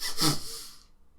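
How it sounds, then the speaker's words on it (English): One breathy inhalation rises and fades within about a second. It is audible, but it does not clearly break into two separate breaths. "take 2 sharp breaths inward like this"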